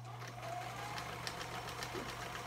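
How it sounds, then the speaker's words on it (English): A vintage 1967 all-metal sewing machine runs with a steady, quiet mechanical hum and faint rhythmic ticking throughout, heard close up with no talking. "Don't you love how quiet this machine is?"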